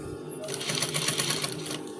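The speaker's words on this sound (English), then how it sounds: "Sew it round. Be careful with the way you sew it." A sewing machine stitches a native cap in a fast, even run of mechanical clatter, close and steady, starting and stopping within a couple of seconds.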